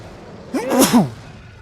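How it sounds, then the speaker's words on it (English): A single sharp sneeze bursts out, close and brief, preceded by a quick inhaling gasp. "I need to sneeze."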